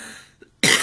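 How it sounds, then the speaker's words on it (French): One sharp, loud cough bursts out abruptly after a brief quiet pause, close to the microphone. "je tousse beaucoup en ce moment avec le pollen"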